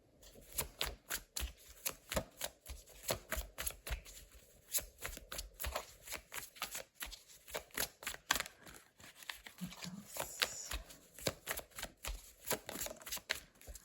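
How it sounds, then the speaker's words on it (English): Tarot cards are shuffled by hand in quick repeated riffles and taps that make a rhythmic run of crisp papery snaps. The sound is close and fairly quiet, with no talk over it. "I'll try not to talk a lot while I'm shuffling the cards"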